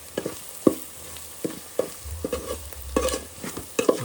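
Puffed rice masala roasting in a pan, a spatula scraping and stirring in repeated sharp strokes over a low steady sizzle, close and fairly loud with no voices.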